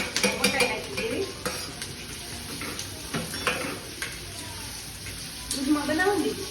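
Corn kernels go into hot oil in a pan and are stirred, giving soft sizzling with repeated scraping and clinking strokes of a utensil against the pan, close and fairly quiet.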